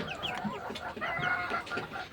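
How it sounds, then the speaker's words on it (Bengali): Week-old hill chicken chicks on a farm give a quick scatter of faint, high chirps and soft clucks, several overlapping calls close by. "আমার পাহাড়ি মুরগির বাচ্চাগুলো মাসাল্লাহ খুবই চমৎকার হয়েছে"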